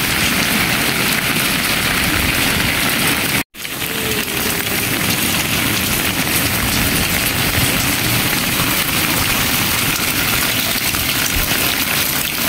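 Steady, loud rain pours down as a dense, unbroken hiss in dark, stormy conditions, with one brief gap partway through before the downpour resumes, and no talk.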